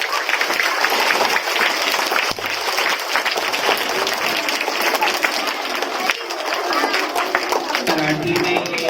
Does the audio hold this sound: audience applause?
yes